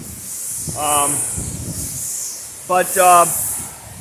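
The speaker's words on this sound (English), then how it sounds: "this isn't going to get that much worse than what we're seeing right now, which is high winds" Steady roaring, hissing hurricane-force wind from Hurricane Ian fills the whole clip, loud and constant, with a voice speaking briefly through it twice.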